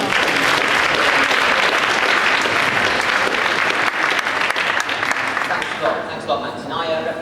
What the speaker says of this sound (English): I'd like a round of applause for him